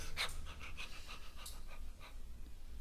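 A person imitates a dog panting: a quick, rhythmic run of breathy huffs, close and moderately loud, with no other voices or sounds around it.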